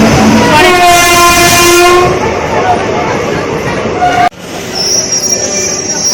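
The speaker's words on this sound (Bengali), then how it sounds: "চলো আমাদের ট্রেন হচ্ছে" A train horn blares for a couple of seconds over loud rail rumble, then the clattering rumble of the train continues with voices talking nearby.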